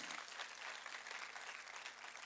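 Congregation applause during a church service, faint steady clapping from the room lasting a couple of seconds with a low hum underneath.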